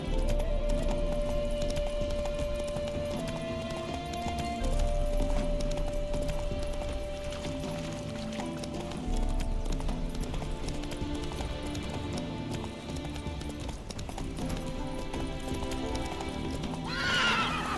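Roach, a horse in The Witcher 3, gallops with steady clip-clop hoofbeats and lets out whinnies, set against a continuous game music and ambient bed.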